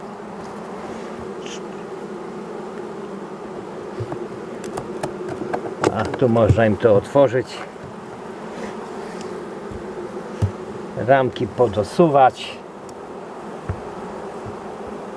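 Honeybees hum in a steady drone at an opened hive after feeding, with louder bursts of buzzing around six and eleven seconds; someone speaks briefly near the start.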